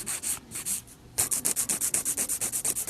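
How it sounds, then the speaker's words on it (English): An emery board files an acrylic nail in quick, rhythmic back-and-forth strokes, a few slower rubs first, then a rapid run of even scratchy passes, close and clear. "I run the emery board sometimes on top of the nail here throughout the day shaping"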